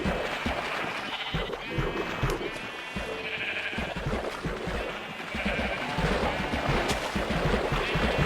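Sheep bleat repeatedly in the Minecraft video game, the wavering calls overlapping and close, sounding over a busy, noisy background for the whole stretch.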